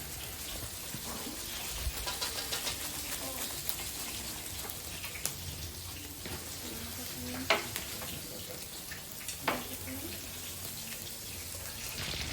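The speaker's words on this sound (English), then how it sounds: "And here we will fry them 2 times." Rolls frying in a pan give a steady, moderate sizzle and crackle throughout, with a few clinks and knocks from handling and faint voices now and then.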